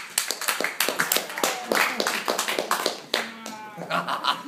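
Audience applause at a magic show, uneven clapping from a small crowd, close and lively, with someone talking over it partway through.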